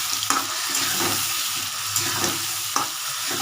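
Spice paste for a Bengali pabda fish curry frying and sizzling in a pan, a steady hiss broken by a few soft stirring scrapes, close and alone without voices.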